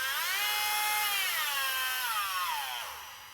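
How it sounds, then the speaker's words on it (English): A cordless battery-powered die grinder whines at close range, its high motor pitch holding steady, then sweeping as the speed changes before winding down, with no voices. "you put the battery in the die grinder and you can change, you could turn it on"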